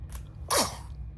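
A single sharp sneeze bursts out midway, close and loud, during a break from describing Napoli and banana legs tomatoes while starting seeds in mid March, with a steady low hum underneath.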